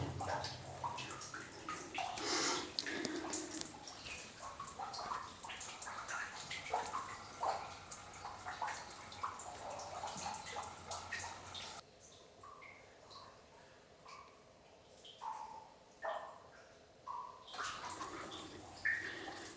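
A steady stream of water drips off a single stalactite inside a small abandoned mine, making faint, irregular splashes and trickles in a quiet, hollow space.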